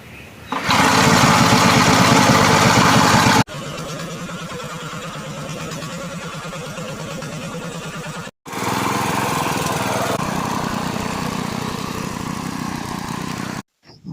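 A farm weeding machine's small engine runs steadily close by, giving a loud, rough, buzzing drone like a lawn mower that shifts level in abrupt sections and cuts out briefly near the end, with no voices.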